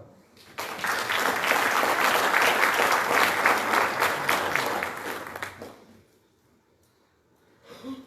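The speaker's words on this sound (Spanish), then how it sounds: "Adelante, aplausos." Audience applause at a law-association book presentation, a dense burst of clapping from a seated crowd that swells quickly, holds steady for several seconds, then fades out, leaving near quiet before a brief stir.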